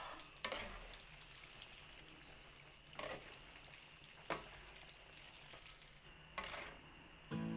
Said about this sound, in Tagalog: salang naman po natin yung saging. Prito rin natin.